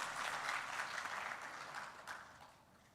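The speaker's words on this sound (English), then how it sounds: "Let's clap for him as well." An audience claps for the second secretary of the Indian High Commission at a Hammond Foundation event, a steady round of applause that gradually fades, with no one speaking over it.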